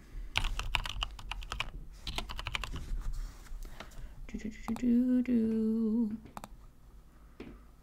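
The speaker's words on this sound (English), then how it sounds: "I cannot type." Rapid clattering keystrokes on a computer keyboard come in close bursts, pausing while someone speaks and hums in a drawn-out tone, then a few more taps follow.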